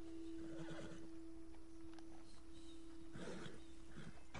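A spooked horse neighs twice, faint and somewhat distant, under a steady background hum with no talking.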